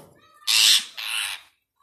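A pet parrot lets out two harsh, loud squawks in quick succession, the first longer and the second slightly softer, after a faint, quiet start.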